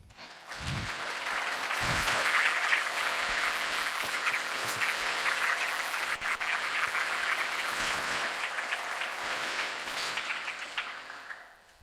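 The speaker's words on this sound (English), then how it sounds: "It was not the last applause of the night." Keynote audience applauding steadily and strongly for nearly twelve seconds, a dense wash of clapping that swells early and tapers off at the end.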